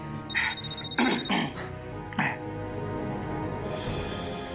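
A telephone rings twice in short electronic bursts, followed by a throat clearing and a faint rising hiss, in a quiet indoor scene from a Hindi television drama.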